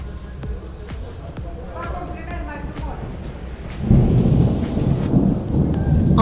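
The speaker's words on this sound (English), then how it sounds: "Oh my god, thunder." Thunder rumbles through a heavy downpour in Brasov, Romania, swelling into a loud, broad roar about midway, with a voice talking faintly in the room early on.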